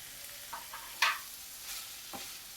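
Paneer bhurji being stirred with coriander in a pan: a soft background sizzle broken by a few scraping strokes, with one sharper scrape in the middle. No voices.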